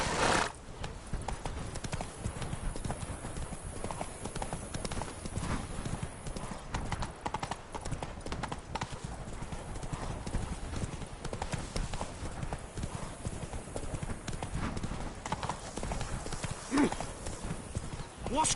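A horse gallops in a video game, its hooves clip-clopping steadily for the whole stretch, with a whinny partway through and a voice speaking over it.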